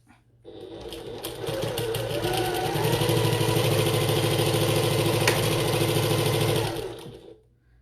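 Sewing machine stitching a canvas bucket tote bag, running as one steady, continuous mechanical whir for about six seconds with a rapid needle rhythm, close and loud, no talking.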